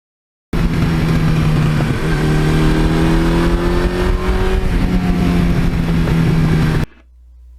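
A Suzuki GS1100E motorcycle cruising along a scenic road, its engine droning loud and steady from start to finish with a smooth pitch shift around a gear change, then cutting off abruptly near the end.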